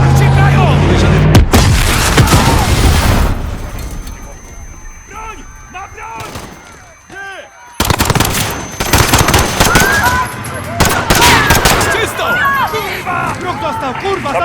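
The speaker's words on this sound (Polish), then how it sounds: "Padły strzały" Rapid bursts of automatic gunfire and single shots crack loudly through a Call of Duty: Modern Warfare firefight, with a brief quieter lull in the middle and shouting voices mixed among the shots.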